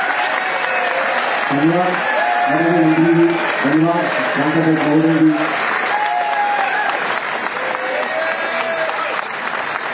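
An audience at a lamp-lighting ceremony applauds steadily throughout, a dense wash of clapping heard while a speaker talks into a microphone over it.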